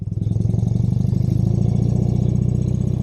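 A BMW R75/5 motorcycle's engine pulses loudly and steadily at low revs with an even, throbbing rhythm while the bike rides a slow figure eight.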